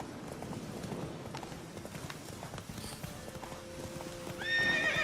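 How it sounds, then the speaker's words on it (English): A black horse's hooves clip-clop steadily in The Witcher 3, a fairly quiet gait under game ambience, ending with a louder whinny near the end. "Qué bonito caballo, bien negro"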